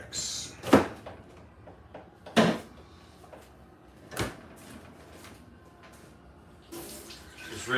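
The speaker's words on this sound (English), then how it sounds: "Just rinsing it out." A container is rinsed under a running kitchen tap while juice is set aside for blending pumpkin seed cheese crackers, with several sharp clunks of the container against the sink over a steady low wash of water.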